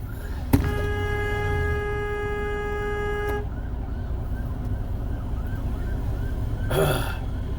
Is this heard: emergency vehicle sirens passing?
yes